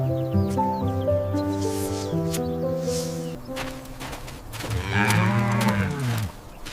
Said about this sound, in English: This is a yak.